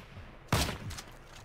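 A single sharp sniper rifle shot in Heroes & Generals cracks out loudly mid-moment, followed by a short echoing tail and faint distant battle noise.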